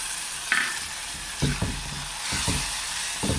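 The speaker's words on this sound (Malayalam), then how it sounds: "നമ്മുടെ ഉള്ളി നന്നായിട്ടൊന്ന് ഏകദേശം ഒന്ന് വഴന്ന് കിട്ടുമ്പോൾ നമ്മൾ അതിലേക്കൊരു മീഡിയം സൈസ് തക്കാളി ഇട്ട് കൊടുക്കണം" Chopped onions and a medium tomato sautéing in a pan give off a steady soft sizzle, with a few stirring scrapes and clicks and no talking.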